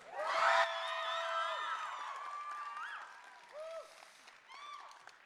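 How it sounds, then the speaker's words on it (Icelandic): A crowd at a live band competition claps and cheers for a band, with a loud burst at the start, then sustained applause broken by high whoops and shouts that fade toward the end. "ef að gefa þeim gott klapp"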